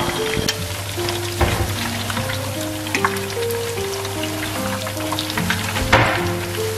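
Tofu frying in a hot, unoiled pan, a steady close crackling sizzle with scattered pops running throughout, while faint tonal music plays underneath.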